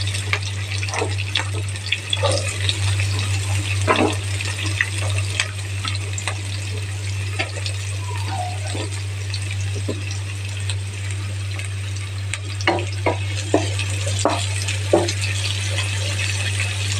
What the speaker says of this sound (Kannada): ಈಗ ಆನಿಯನ್ನ ಸೇರಿಸ್ತಾ ಇದ್ದೀನಿ.